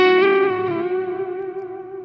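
An electric guitar runs through a Keeley Super AT Mod overdrive and a Halo echo, a single sustained, harmonically rich overdriven note ringing out and slowly fading with echo trailing behind.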